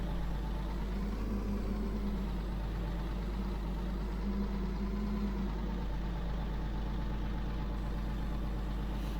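A truck engine in a farming video game runs as the truck backs up to a barn for loading bales, giving a steady low idling drone that holds level and continuous throughout, with no talking.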